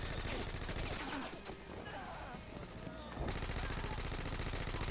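Rapid bursts of automatic gunfire from a shooter video game duel, dense and loud throughout with a brief lull in the middle before the firing resumes at full intensity.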